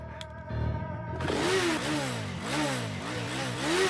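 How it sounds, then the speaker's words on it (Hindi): Motorcycle engine kicked over and catching, then running loud and close with repeated rising revs in a steady rhythm, no talk over it. "बाइक पे किक मार।"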